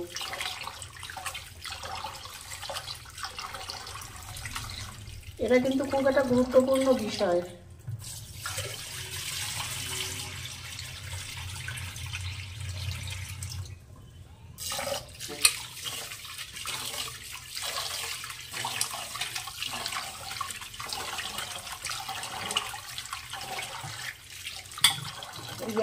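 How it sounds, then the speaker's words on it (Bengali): Rice is washed under a running kitchen tap while cooking Bengali veg bhuna khichuri, giving a soft continuous stream of water with a louder splash partway through. Someone speaks briefly over it. "যতক্ষণ এই চাল দিয়ে সাদা জলটা বেরোবে ততক্ষণ আমি চালটা ধুতে থাকবো।"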